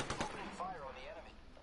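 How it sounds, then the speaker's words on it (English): Gunfire in Apex Legends: a couple of sharp close shots at the start, followed by game effects and a voice speaking briefly. "Opening fire on the enemy."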